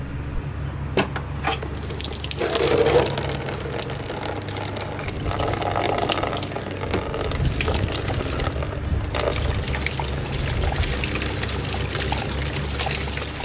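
Water sprays steadily over an Alfa Romeo 156 GTA SW under renovation, a continuous hissing wash that holds at a fairly even level throughout.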